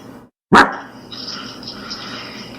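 A single sharp dog bark rings out close by after a moment of quiet, followed by a lingering faint whine and background noise.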